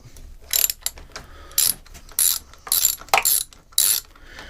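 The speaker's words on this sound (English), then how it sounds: "This 10 millimeter. You'll find 10 millimeter is a common socket on most of stuff." Ratchet wrench fitted with a 10 mm socket working on a Yamaha outboard carburetor, clicking in about six short, sharp bursts close by with brief pauses between.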